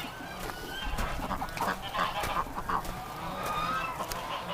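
Several ducks honk and quack in a busy, overlapping chorus at moderate distance, with outdoor background noise and slowly melting snow underneath.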